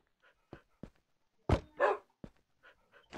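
A dog in the Minecraft video game barks in short, sharp bursts scattered irregularly, with a couple of louder barks near the middle and softer yips between, alone against silence.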